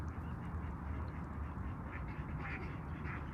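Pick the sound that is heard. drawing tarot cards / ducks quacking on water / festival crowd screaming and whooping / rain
ducks quacking on water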